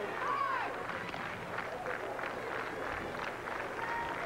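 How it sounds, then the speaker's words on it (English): Sycamore fans clap in rhythmic bursts at a 1986 College World Series baseball game against Oklahoma State. The clapping is fairly faint and distant, with crowd murmur and a commentator talking over it. "Some of the Sycamore fans starting some clapping"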